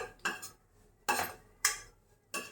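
A spoon scraping and clinking in a pan as oats are roasted in ghee for a jaggery oats kheer, four sharp metallic strokes separated by short quiet gaps.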